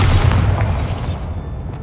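A Bombarda spell explodes in a Harry Potter video game, a loud, close, booming blast that rumbles and slowly fades over a couple of seconds.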